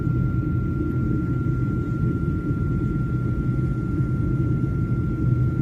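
A steady, droning engine rumble inside an airplane cabin, with a constant low roar and a faint thin whine held throughout.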